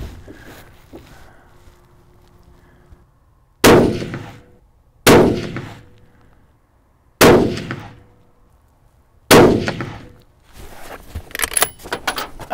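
Four sharp rifle shots from a Bergara B14 HMR firing Hornady 147 grain ELD rounds, evenly spaced a couple of seconds apart, each a loud crack with a quick fading tail, then some handling clatter.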